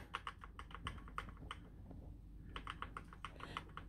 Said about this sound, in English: just keep typing the boot settings